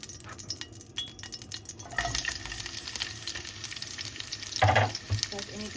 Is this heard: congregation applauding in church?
no